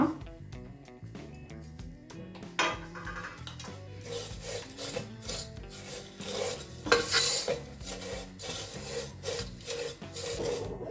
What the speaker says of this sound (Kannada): ತುಪ್ಪದಲ್ಲಿ ಮತ್ತೊಮ್ಮೆ ಫ್ರೈ ಮಾಡ್ಕೊಳ್ಳೋಣ